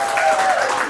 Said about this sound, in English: clap your hands for her, 1981